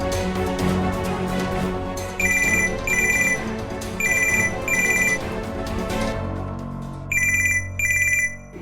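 A mobile phone ringtone repeats in short, steady bursts over continuous background music in a domestic drama scene, ringing loud and close with no one talking.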